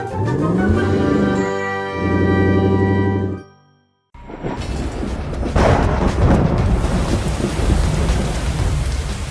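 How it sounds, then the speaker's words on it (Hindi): An animated thunderstorm: a tonal musical passage cuts to brief silence, then a heavy crack of thunder breaks over loud, steady pouring rain that continues to the end. "तूफान का कहर थमने का नाम नहीं ले रहा है।"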